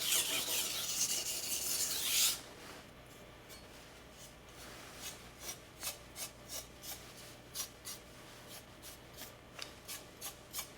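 A knife is stroked along a 1200 grit whetstone, a loud hissing rasp at first, then a series of short, evenly spaced scraping strokes, fairly quiet and close, with no voices.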